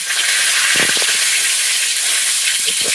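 Panch phoron and home-grown bay leaves sizzle in hot oil in a pan, a loud continuous bright hiss with a few faint pops and crackles underneath, close and steady throughout.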